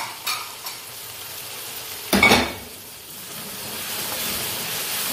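Green peas frying in a pan for chicken pulao give a soft, steady sizzle. A single sharp clatter of a utensil against the pan rings out partway through, and faint steam hiss runs underneath.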